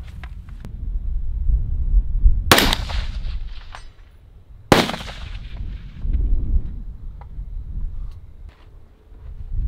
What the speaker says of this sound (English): Pretty good with this gun, huh?